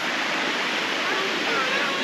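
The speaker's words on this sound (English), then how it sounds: "Here's a cool little creek." A small creek rushes in a steady, close broadband wash of flowing water on a hiking trail, unbroken throughout.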